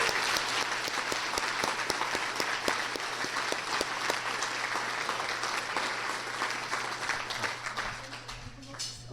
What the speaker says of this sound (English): please join me in applauding the three finalists